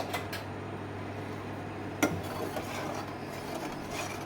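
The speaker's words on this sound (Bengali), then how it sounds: "লবণ দিয়ে ভালো করে আমি নেড়ে নেব।" A utensil stirring salted pasta in a cooking pot, with scraping and rubbing against the pot and one sharp clink partway through; no one speaks.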